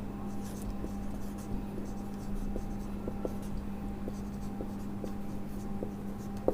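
Pen on paper writing out a chemistry solution by hand, a soft continuous scratching with small taps over a steady low hum, close and quiet, no talking.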